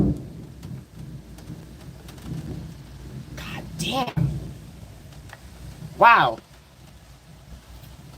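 Deep thunder rumbles through a storm with rain, a heavier roll building and breaking mid-way, while a person talks and exclaims over it nearby.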